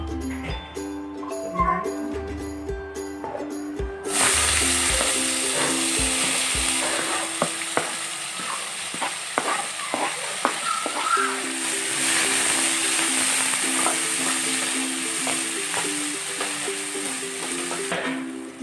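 After a few sharp clatters, oil bursts into a loud, steady sizzle as chopped onions hit the pan, crackling and hissing continuously with occasional stirring scrapes.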